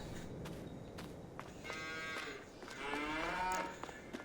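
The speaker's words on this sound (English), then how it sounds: "Alright, so looking at the cows now." Cows moo in the farming game Farming Simulator 22. Two drawn-out, fairly close lows rise over a quiet, noisy ambience, with faint steps and clatter.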